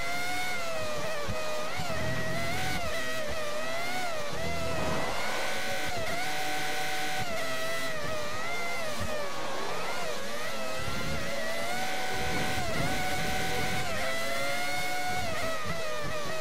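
Formula 1 race car engines in the F1 2013 video game's classic mode, a steady whining drone with rising and falling pitch as the cars accelerate, loud and continuous with no talk over it.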